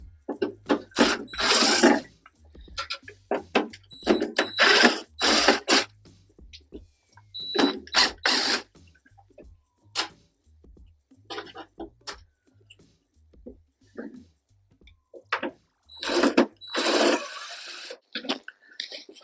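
Square drive screws being backed out of an RV cooktop in a kitchen range, heard as bursts of whirring driver noise with short pauses in between, close and fairly loud, with no talking.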